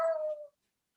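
A cat gives one short, clear meow that fades out within half a second, followed by silence.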